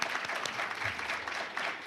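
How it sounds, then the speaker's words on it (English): Audience applause after keynote speakers at a college STEM professional development workshop, a dense burst of clapping from a crowd filling the room, loud and continuous without talk. "Big round of applause."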